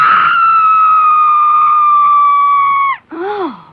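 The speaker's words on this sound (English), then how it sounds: "I thought I heard you scream." A long, loud, sustained animated scream holds a steady pitch for about three seconds, then breaks off into a short falling wail.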